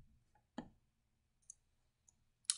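A software button is clicked with a computer mouse during a parts payment demonstration, making a few soft, isolated clicks. One slightly fuller click is followed by fainter ticks, all close and quiet, with near silence between them.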